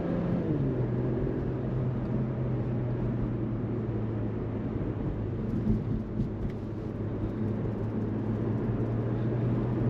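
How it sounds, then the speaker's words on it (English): A stock Infiniti Q50 Red Sport rated at 450 hp cruising, its engine a low steady hum buried in road and cabin rumble from inside the car, with no talking. "Y'all can hear the Q50 Red Sport"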